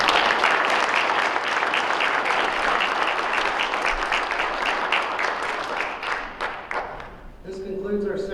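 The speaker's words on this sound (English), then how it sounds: "So will we please give her a round of applause?" Sustained audience applause at a Veterans Day ceremony at a university, steady dense clapping for most of the clip that thins toward the end as a voice begins speaking.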